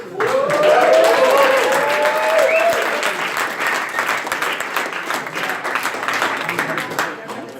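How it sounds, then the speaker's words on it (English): Loud applause from a startup weekend closing-ceremony crowd for a team, a thick sustained roar of clapping with a rising whistle-like tone early on and a voice briefly over it. "big round of applause for the microbridge team"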